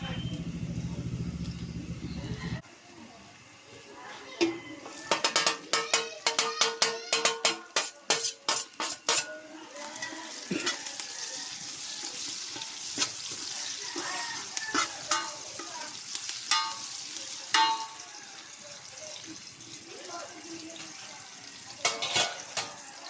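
Beef cubes frying in a pot on a home stove, with clatters of stirring and scraping, sharp metallic bursts of utensil on the pot, and a steady sizzle. Someone talks throughout.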